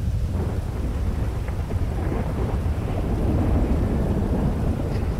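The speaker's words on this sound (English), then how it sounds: "Oh, look at the thunder over there." Thunderstorm in GTA 5, with steady heavy rain hissing close by and deep thunder rumbling throughout, one continuous dense wash of storm noise with no voices.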